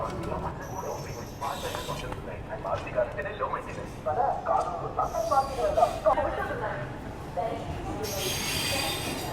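The Garib Rath express from Chennai to Delhi pulls into Vijayawada Junction, with metallic clanks, rattles and brief squeals under a voice, and a hiss rising near the end.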